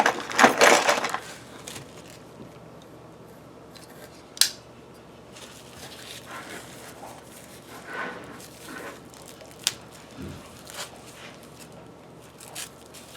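Knife cuts with a burst of crisp scraping and crunching at first, followed by sparse, faint cuts and clicks spread apart in a quiet room.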